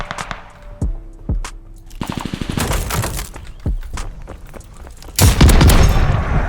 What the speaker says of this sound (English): level up the machine pistol there